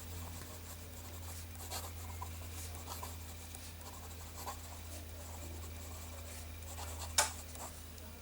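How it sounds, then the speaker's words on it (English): A wet, broad-nibbed Pelikan M101N fountain pen in tortoise shell brown scratching softly across paper in irregular strokes, faint and close over a low steady hum, with one sharper tick near the end. "Now here we have a broad nib, and this is a pretty wet one too, Pelikan M101N, tortoise shell brown."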